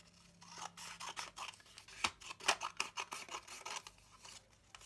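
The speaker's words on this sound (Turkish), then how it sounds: "Ve üzeri için ayırdığım parçayı da kesiyorum." Scissors cut through a piece of cardboard for a paper lantern craft, making a close, quick series of crisp snips and rasping crunches that fade near the end.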